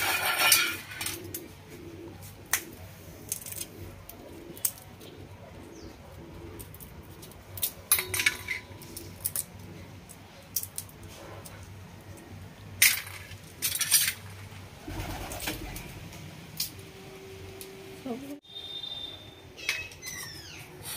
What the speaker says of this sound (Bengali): এই যে বাদামের খোসাগুলো আমি এইভাবে ছাড়িয়ে নেব।